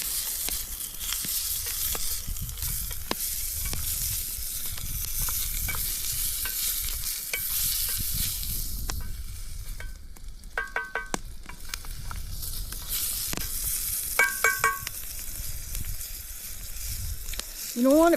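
An onion and celery mixture browns in a stew pot over a campfire, with a constant crackling sizzle and repeated scraping stirs, a few clinks of utensils, and a brief voice at the very end.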